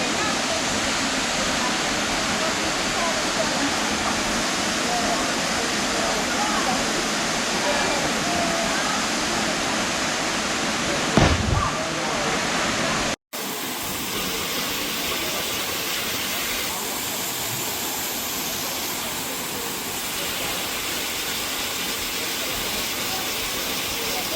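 A waterfall at Malendure gives a steady, broadband rush of falling water that fills the whole stretch, with a brief sharp disturbance midway before the roar continues a little softer and voices faintly audible.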